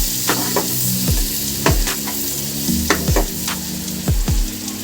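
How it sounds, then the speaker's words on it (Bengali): Chopped green chillies frying with onion in a pan make a loud, close, steady sizzle, broken by several sharp scraping strokes of a spatula as the mix is stirred. "এটাকেও একটু ভালো করে একটু ভেজে নেবো লঙ্কাটাকে"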